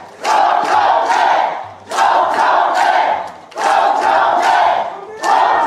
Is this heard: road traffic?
no